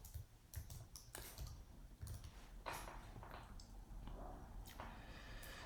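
Faint, quick clicks of fingers typing on a computer keyboard while working in Visio, heard as a short, quiet run of keystrokes with a few pauses.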